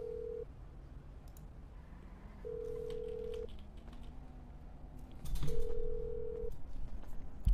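Phone in a Los Santos role-play video game dialing a callback: three steady electronic ring tones at regular intervals over a low background hum, with a louder burst near the end.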